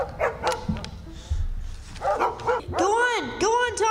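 Dogs let loose along a riverside chase give out a burst of barks and excited yips, loud and close, with a voice shouting over them.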